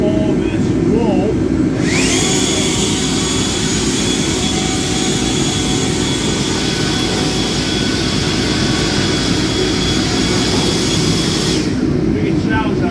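A loud air blower roars steadily for several seconds, blasting polishing wool off the body of a Ford Lightning truck, then cuts off abruptly, with faint voices near the start.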